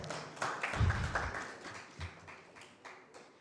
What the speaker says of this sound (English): Give her a hearty clap.